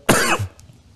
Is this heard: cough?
yes